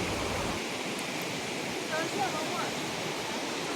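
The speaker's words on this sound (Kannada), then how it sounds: "ಆ ಬ್ರಿಡ್ಜ್ ಕೆಳಗಡೆ ಈ ನದಿ." A river rushes beneath a bridge near the Ulavi temple road in Dandeli, a steady broadband roar of flowing water that runs unbroken and close for the whole stretch, with a few faint tonal chirps in the background.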